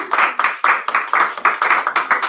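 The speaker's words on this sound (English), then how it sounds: "Do you think he deserves a big round of applause?" Clapping for a boy at a school year-end event, heard as a fairly close, even burst pattern of many hands striking together in a steady rhythm, with no talking over it.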